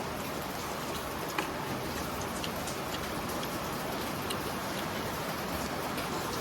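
Rain falls steadily at a farm, a constant broad wash of pattering drops with a few faint ticks, heard alone.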